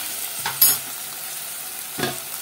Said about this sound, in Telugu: టమాటా ముక్కలు కూడా వేసేసుకొని చక్కగా కలిపేసేసుకుందాము.